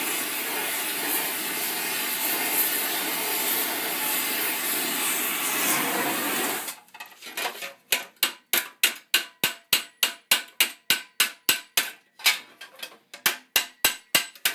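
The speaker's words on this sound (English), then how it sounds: "On this pass, there'll be a whole lot more direct contact with the anvil face." Steel greave for late 14th-century armour hammered on an anvil: after a steady hissing roar, a long run of sharp, ringing metallic blows strikes in a quick regular rhythm, loud and close.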